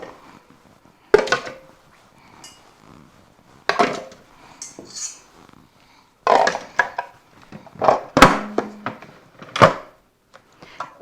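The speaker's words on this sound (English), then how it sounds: "And I'm going to place the jars in." Glass quart jars clink and thunk one after another as they are set down into a metal pressure canner, with quiet pauses between placements.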